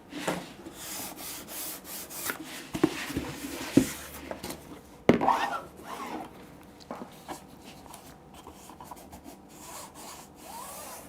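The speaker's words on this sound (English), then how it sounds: "I'm trying to figure out maybe to do the other side with sanding" Quiet, steady rubbing and scraping against wood, like sanding by hand, on a slipcase box, with a few louder knocks and scuffs mixed in.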